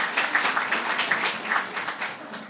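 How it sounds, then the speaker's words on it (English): A crowd gathered for the grand opening of a new affordable housing development applauds, with dense, steady clapping that stays loud and continuous for a few seconds and carries no speech. "So maybe a round of applause for that group."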